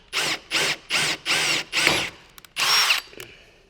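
A power drill bores an installation hole through the sill of a multi-slide stacking window frame, six loud close bursts of whirring in quick succession with short pauses and a small clatter between.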